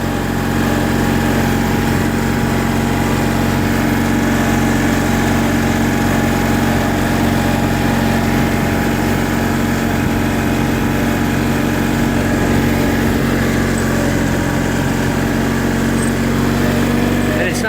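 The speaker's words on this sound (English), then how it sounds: "The engine still bogs a little bit" A John Deere 316 lawn tractor's small engine runs steadily at a constant droning pitch, bogging slightly and needing a carburetor rebuild, loud and close, with no other sounds breaking through.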